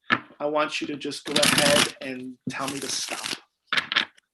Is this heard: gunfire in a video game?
no